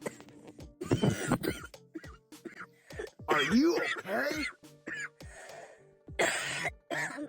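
A person coughs in several hard, close bursts and clears their throat, with other people talking and reacting between the coughs.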